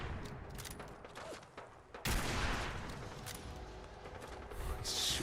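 Gunfire in Fallout 4 with the Sim Settlements 2 mod: a dense, fairly loud volley of shots that starts abruptly near two seconds and keeps going, with a burst rising at the end. Earlier shots sound softer and more distant.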